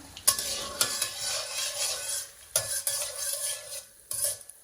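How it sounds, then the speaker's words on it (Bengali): Green chilies hit hot oil for a home-style Bangladeshi pabda fish curry, giving a bright crackling sizzle with sharp spits and a few scraping stirs of a utensil against the pan, close and loud, with no talking. "তেল গরম হয়েছে কাঁচামরিচ দিলাম"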